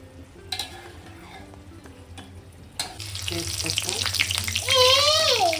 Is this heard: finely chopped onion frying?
yes